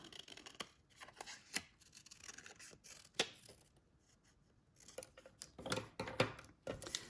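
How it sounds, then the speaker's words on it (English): Scissors cut through stencil material in quiet, close snips and crisp scraping cuts, arriving in irregular clusters with short pauses between strokes. "and cut this one also with these scissors."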